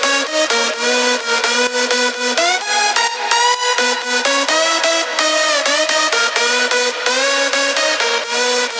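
Progressive house synth leads layered together: a bright, dense sustained melody with stepping notes and rich harmonics, loud and continuous, with no voices.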